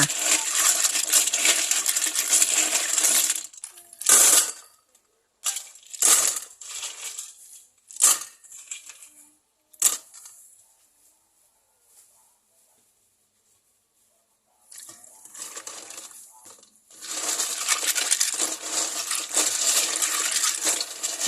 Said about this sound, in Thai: เมื่อตัดก้นหอยเสร็จเรียบร้อยแล้ว ก็มาล้างทำความสะอาดอีกครั้งหนึ่งค่ะ